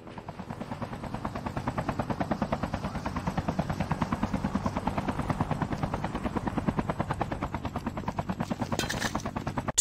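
Loud, steady rhythmic rotor thumping of a helicopter in the video game Call of Duty Mobile, close and continuous, with no talk.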